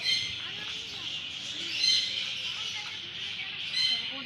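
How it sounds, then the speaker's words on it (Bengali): Birds at the Baruipur Mini Zoo (Aronyak Bonbhojon Udyan) give repeated chirps and squawks, rising in short bursts at moderate distance over a faint background murmur. "ভিতরে ঢুকতেই শুধু পাখির কিচির মিচির আওয়াজে ভরপুর চারিদিকে শুধু পাখি আর পাখি"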